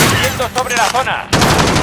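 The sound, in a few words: gunfire in Call of Duty video game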